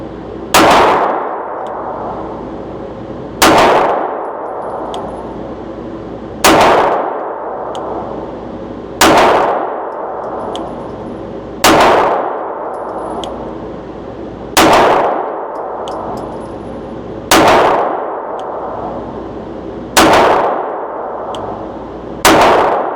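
Wilson Combat Experior pistol firing at steel targets: eight loud single shots, each followed by a ringing metallic clang that fades, spaced evenly about three seconds apart at an outdoor range.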